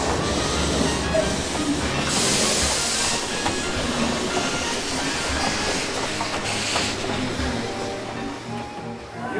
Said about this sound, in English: Here comes the train too.